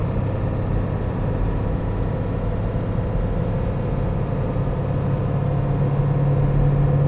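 A 2002 Ford Excursion with a 7.3L Powerstroke diesel on a cold morning drive, a steady low engine drone and road rumble from inside the cabin, the note rising slightly late as it pulls through the gears.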